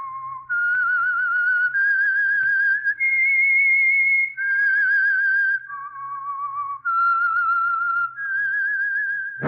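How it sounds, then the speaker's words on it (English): A lone whistled theme melody for The Whistler, a 1947 radio mystery program, rising and falling in clear sustained phrases over about nine seconds with a faint low hum beneath. "That whistle is your signal for the Signal Oil Program, The Whistler."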